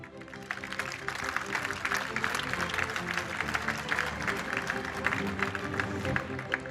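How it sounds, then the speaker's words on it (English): Audience applause fills the hall at the Men's EHF EURO 2024 handball final tournament draw, a dense, steady wash of clapping from a large crowd lasting throughout with little variation. "Please give this initiative a round of applause."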